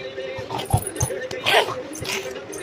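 A voice imitating a dog with a few short yips and barks, mixed with adult talk nearby.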